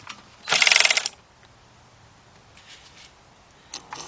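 Ratchet wrench loosening a 13mm bolt on a Chrysler car engine during timing chain work: a quick burst of rapid ratcheting clicks, fairly close and loud, followed by faint metallic taps.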